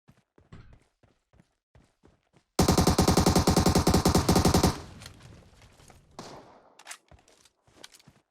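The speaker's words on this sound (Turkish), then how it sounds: "Nereden sıkıyor? Evin içinden mi sıkıyor ya?" Enemy gunfire rings out in PUBG Mobile, with scattered single shots and footsteps giving way to a loud, sustained automatic burst of about two seconds, then quieter shots and thuds.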